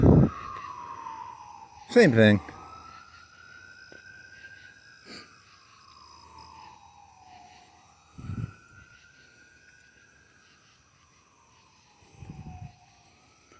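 An ambulance siren wails in long rising and falling sweeps from a distance, with brief voices and thumps breaking in now and then.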